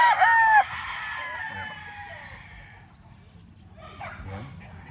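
A Sweater gamefowl rooster gives one short, loud crow right at the start, followed by quieter farmyard ambience and someone talking.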